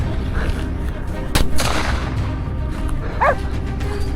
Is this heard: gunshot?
yes